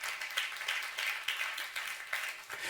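A church congregation applauds in quick rhythmic clapping, rising and falling in regular pulses at moderate loudness for a few seconds.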